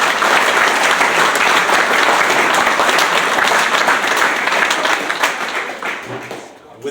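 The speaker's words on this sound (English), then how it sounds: "So one more round of applause for that." An audience at a hall of fame ceremony gives a sustained round of applause, dense clapping filling a hall and tapering off near the end.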